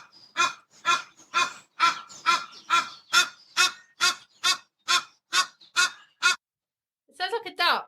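A duck call, or a voice imitating one, gives a rapid series of about fourteen loud, nasal quacks in steady rhythm, then a short pause and a final rough burst, close and clear in a quiet room.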